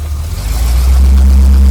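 A 1974 Corvette Stingray's engine runs while driving, a loud steady low drone that rises slightly and settles into a sustained hum, heard close inside the car with no speech.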